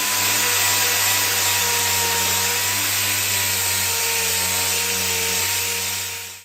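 80-grit sanding on stainless steel car trim gives a steady, close whine with a grinding hiss and humming tones, holding level before trailing off at the end.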